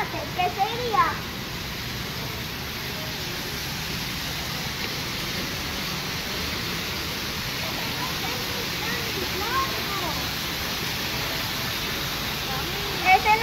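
Steady broadband rush of flowing water fills the whole stretch, with children's voices faintly audible over it now and then.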